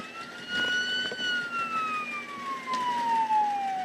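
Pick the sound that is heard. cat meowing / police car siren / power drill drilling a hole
police car siren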